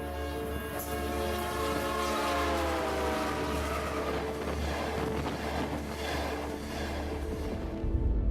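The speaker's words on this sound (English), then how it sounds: "Think about how the pitch of a train whistle drops as it races past." A train horn blares in a long, steady chord that slowly sinks as the train races past. Its rumbling fills in beneath, with no voices.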